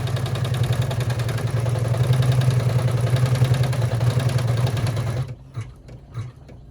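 An embroidery machine stitching a wallet held in the hoop gives a fast, steady mechanical whir with rapid needle pulses for about five seconds, then stops, leaving a few quieter clicks and thumps.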